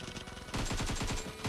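Rapid bursts of automatic gunfire crackle in a PUBG Mobile match, a quick rattling string of shots at moderate distance over a constant game background, without speech.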